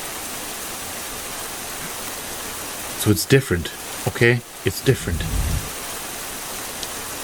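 Steady rain pours through a rainy outdoor scene in Broken Sword: The Sleeping Dragon, a constant hiss with a short burst of game sounds and a voice talking over the downpour midway.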